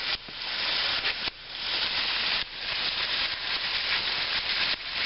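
Oil sizzling in a hot pan with steak drippings, a steady close hiss with a few brief dips, heard alone without talk.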